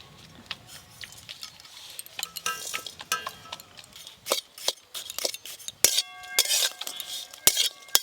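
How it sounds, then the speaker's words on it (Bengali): Grated coconut and jaggery filling is stirred in a pan, with irregular metallic clinks and scrapes of a utensil against the pan, some sharp and close, over a quiet background; no voices. "গুড়টা যতক্ষণে নারকেলের সঙ্গে ভালো করে মিশে যায় ততক্ষণে এইভাবে নাড়তে থাকবো"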